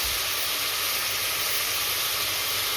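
Ginger garlic paste hitting hot oil with frying biryani masala in a pan, giving a loud, steady, hissing sizzle that stays dense and unbroken throughout.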